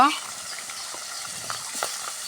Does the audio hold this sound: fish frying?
yes